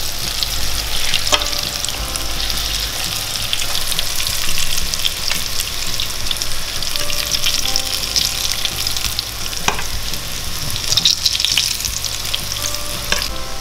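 Cheese pancakes (syrniki) sizzle and crackle steadily in a frying pan, a constant close-up hiss with occasional sharper pops and faint clinks.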